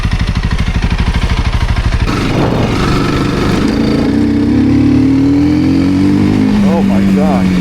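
Honda CRF300L motorcycle fitted with a 550 ECU setting off on a test ride, its engine thumping in a steady rapid pulse before revving up and droning louder as it pulls away, with a rider speaking briefly over it.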